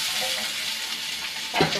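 Chopped onion sizzles steadily in hot oil in a pan, a close, dense hiss with a short scraping thump near the end as chopped gourd goes in.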